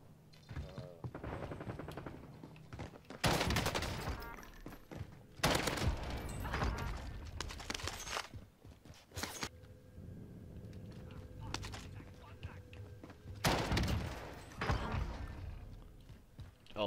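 Sniper rifle gunfire in the Cold War-era Warzone battle royale game, several loud sharp shots spaced across the stretch with game noise between them.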